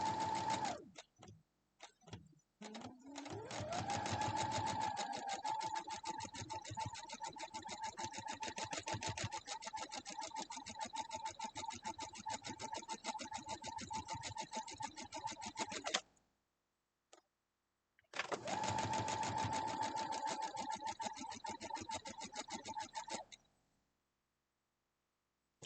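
A sewing machine stitches a quilt block with a steady, fast mechanical whir that runs for about fifteen seconds, pauses, then runs again briefly before stopping, close and clear with no voices.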